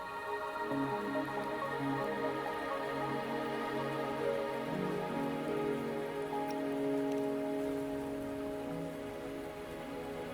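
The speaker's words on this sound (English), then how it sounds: "Are you trapped here by the rain?" Rain falling in a video game, a dense, steady patter of drops on surfaces that holds at moderate loudness throughout, with soft tonal game music underneath and no speech.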